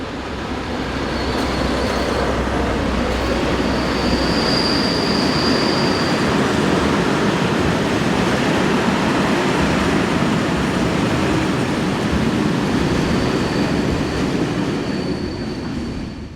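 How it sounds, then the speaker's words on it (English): Two SNCF BB 69400 locomotives haul a trip freight past an overbridge on a loop line, a steady loud rumble of wheels and wagons with faint squeals throughout. "we see these two BB 69400s on a trip freight for Gevry yard"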